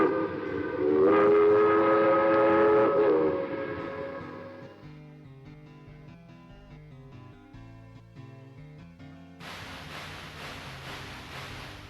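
Iron Duke steam train in the Railroad Tycoon Deluxe game: a loud, sustained whistle with stacked tones for about three seconds, followed by a quieter chugging musical game jingle and a brighter burst near the end.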